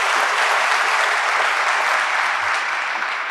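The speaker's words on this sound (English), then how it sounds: "I think that deserves a round of applause" A full hall of colleagues at a conversation event with former President Thabo Mbeki applauds loudly. The clapping is thick and steady and holds evenly from start to finish.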